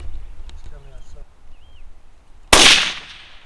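A single loud, sharp rifle shot from a 6.5 Creedmoor fired at a warthog on a hunt, cracking suddenly after quiet murmured talk and trailing off in a short decay.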